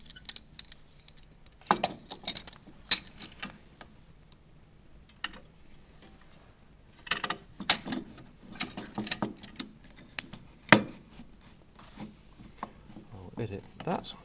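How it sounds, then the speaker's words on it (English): Wood being clamped into place beneath a mitre saw set at 45 degrees, heard as scattered mechanical clicks, ratcheting and clunks in short bursts with quiet gaps between, fairly close. "We can then position our wood underneath where we need to cut, and again we need to clamp it into place."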